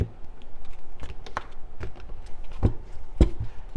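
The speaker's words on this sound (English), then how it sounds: "we're going to cut the deck here" Tarot cards are handled and cut, a series of soft, irregular taps and card slaps, close and fairly sharp, with no talk.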